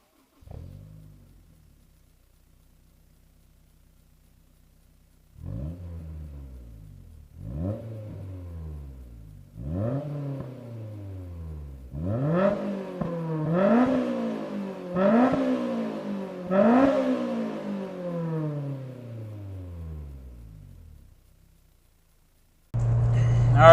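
A 2005 Honda S2000 AP2 accelerates hard through several gears, each pull a rising engine howl cut by a shift, building louder and higher, heard from inside the car before it falls quiet.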